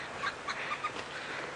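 Green wood hoopoes, also called red-billed wood hoopoes, chirp outdoors on an evening African safari drive, a few short, high calls repeating over a steady background hiss at moderate distance.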